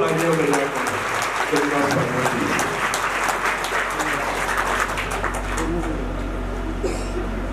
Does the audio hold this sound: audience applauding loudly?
yes